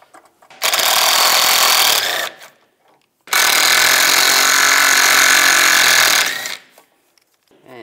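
Impact wrench or ratchet zipping out sway bar bracket bolts with an E12 socket on a 2004-2010 BMW X3 rear suspension; two loud, sustained whirring bursts close by, separated by a short pause.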